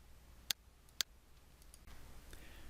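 Two crisp, sharp mouse clicks about half a second apart, close and isolated against a quiet room background.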